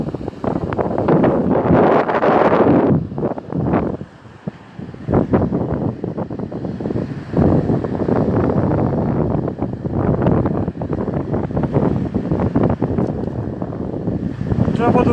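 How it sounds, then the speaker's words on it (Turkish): Strong wind buffets the microphone in a loud, steady roar with gusty rumbling, briefly easing partway through, and voices may be faintly audible beneath it. "Bu tarafa doğru geldiğiniz zaman bayağı rüzgar oluyor tabii."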